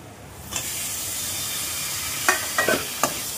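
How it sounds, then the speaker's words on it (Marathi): Dried fish sizzling and frying in a pan for a dry fish curry, a steady close hiss with a few brief stirring scrapes near the end. "वाकट्या छान फ्राय करून घेऊया."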